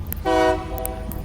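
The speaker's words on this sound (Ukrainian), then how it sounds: "Потяг тут." A train horn sounds once from a short distance on an evening city walk, a steady harmonic blast lasting about a quarter second before fading into the street background.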